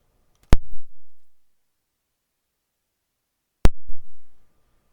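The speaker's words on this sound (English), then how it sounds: "Sorry, I'm taking so long typing." Two sharp, isolated taps on a Fire tablet's on-screen keyboard, spaced about three seconds apart, each with a brief low thud in an otherwise quiet room.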